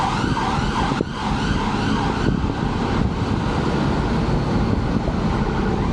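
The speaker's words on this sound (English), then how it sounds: "It's an ambulance." An ambulance siren sounds steadily in the background under a dense wash of Nottingham city-centre traffic noise, fairly loud and continuous throughout.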